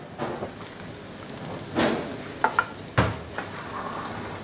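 A red wine and veal stock reduction simmers on a hot plate with a soft, faint bubbling hiss, broken by a few brief clicks and stirring sounds.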